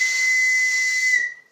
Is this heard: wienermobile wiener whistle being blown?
yes